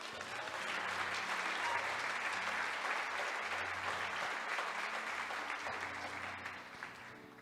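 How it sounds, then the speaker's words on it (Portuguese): Sustained applause from a church congregation during a sermon fills the whole stretch, a dense, steady wash of many hands clapping that fades slightly toward the end, with no talk over it. "Você pode aplaudir o Senhor?"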